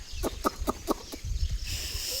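A run of short, rhythmic clucks from village chickens nearby, followed by softer rustling and a low background hiss, on a rainy morning.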